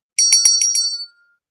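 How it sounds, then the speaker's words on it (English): A small bicycle-style bell rung in five quick, bright dings close to the microphone, each ring decaying briefly, then silence. "I'm ringing a bell"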